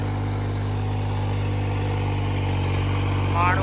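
A New Holland 3630 tractor engine runs close by in a steady, heavy low drone that holds even throughout, with a brief rising whine at the very end.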